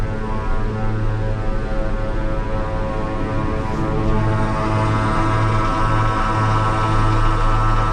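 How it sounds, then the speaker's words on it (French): An engine drones steadily near the Aix aerodrome, a loud, even, low rumble with a continuous hum that stays constant throughout, with no voices. "J'entends un moteur, mais je sais pas lequel c'est."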